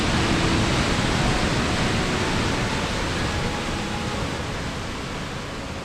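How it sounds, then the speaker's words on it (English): Avalanche Creek rushes loudly and continuously, a dense broadband roar of fast-flowing water close by along a forest trail in Glacier National Park, Montana, with no other sounds. "we could still hear the rushing water, reminding us that the creek was never too far away."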